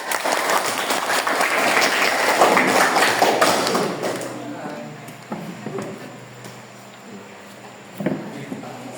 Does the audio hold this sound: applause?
yes